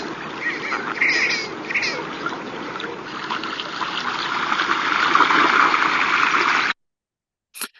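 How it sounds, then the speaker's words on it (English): Red-breasted merganser courtship calls: a dense, continuous chorus of raspy duck-like croaks and purrs over water noise, ending abruptly and followed by a brief faint click. "And here for the red-breasted merganser."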